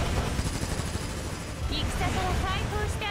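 Gunfire in the video game Azur Lane: rapid bursts of shots mixed with game effects and rising electronic tones, busiest in the second half.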